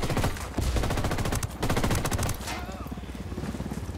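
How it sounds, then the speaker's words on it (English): Enemy automatic gunfire in Ghost Recon Wildlands, Tabacal province: loud rapid bursts crackle for the first couple of seconds, then fade into a steadier, lower rumble of shooting, with a voice speaking over it. "There's a guy behind me shooting the crap out of me"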